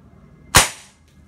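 A single sharp crack from a Beeman Jungle air gun being fired, loud and close, with a short decaying tail in a quiet room.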